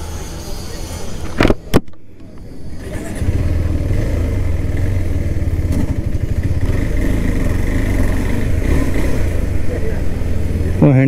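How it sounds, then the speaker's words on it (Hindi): An adventure-category motorcycle starts off after a few brief knocks and clicks, then settles into a continuous low engine rumble that carries steadily close to the rider for the rest of the ride. "एडवेंचर कैटेगरी की बाइक है ये, तो चलिए चलाते हैं इसको भी"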